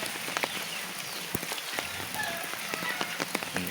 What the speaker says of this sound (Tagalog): Lumalakas yung ulan rito sa amin.